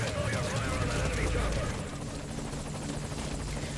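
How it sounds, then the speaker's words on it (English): A helicopter in Metal Gear Solid V: Ground Zeroes roars loudly as it departs, its rotor thump steady and then easing slightly as it pulls away. "the guards will notice your chopper as it is leaving here"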